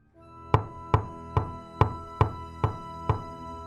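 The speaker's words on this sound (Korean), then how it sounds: "대담스럽게 똑똑똑똑 일곱 번을 두드렸습니다" Seven sharp knocks on the front gate of a sinister house, evenly spaced and fairly loud and close, each ringing briefly before the next.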